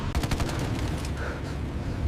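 The P-47 fighter's machine guns fire a quick rattling burst at the start, and a dense battle din carries on after it.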